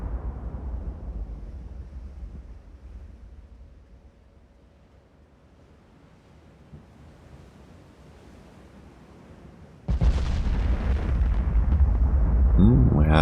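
Naval guns fire aboard a warship in Ultimate Admiral: Dreadnoughts. A low ocean rumble and wind build gradually until a sudden loud blast, followed by a sustained heavy roar. A person talks faintly at points.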